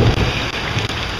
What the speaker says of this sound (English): hoping that the rain that's coming down right now dwindles down to nothing